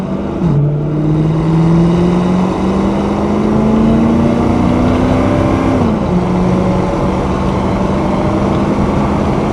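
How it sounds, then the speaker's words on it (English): A 2001 Pontiac WS6 with an automatic and a 5.7-litre LS1 V8 pulls hard on fresh blacktop, its engine note climbing steadily through a long rev rise, dipping at a shift, then climbing again, loud and close throughout. "we'll roll into the throttle here on this fresh black top. Test out that LS1 a little bit"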